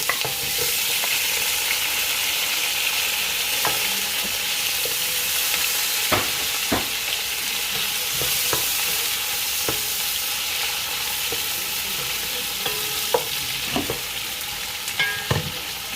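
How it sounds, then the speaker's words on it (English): Onion fries in a pot for village-style Ghana jollof rice, hissing in a loud, constant sizzle broken by scattered sharp clicks and taps of a stirring spoon. "I'm going to cook this onion for just about 1 minute"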